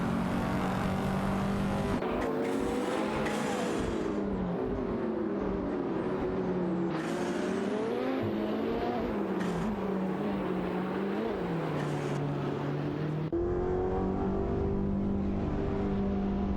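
Lamborghini Huracan and Pagani Zonda racing cars roar through a video game race, engines droning steadily and shifting pitch as they accelerate and pass, a loud continuous blend of several motors.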